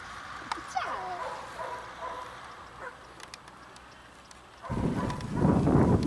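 A pit bull puppy's high, thin whimpers and yips come in short bursts, then a louder rustling scuffle takes over near the end.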